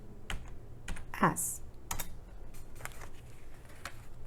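Scattered clicks of keys being pressed one at a time on a computer keyboard while typing sight words, close and moderately quiet, with a brief voice and uneven gaps between the taps.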